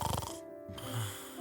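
A short snoring sound effect: a rattling, throaty inhaled snore followed by a softer nasal breath, close and fairly quiet.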